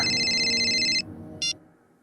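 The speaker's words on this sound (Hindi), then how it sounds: "फोन को भी इसी टाइम बजना।" An electronic phone ringtone trills for about a second, stops, then gives a brief second burst, fairly clear over a quiet room.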